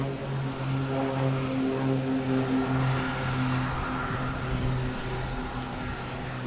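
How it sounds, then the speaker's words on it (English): A Spirit Airlines airliner pushing back from the gate at Boston Logan Airport gives a steady, moderately distant engine hum with a low drone that holds throughout, with no talk. "There we go, Spirit Airlines here backing up. Pushing back from the gate."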